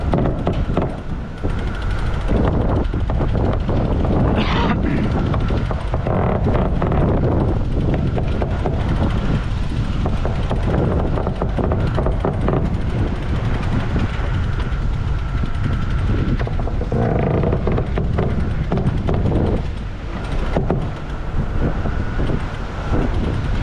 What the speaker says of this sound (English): The wind angle is changing as the squall goes through.